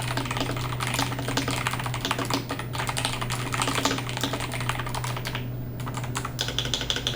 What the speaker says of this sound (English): So already the spacebar sounds a lot better than the other one in my opinion.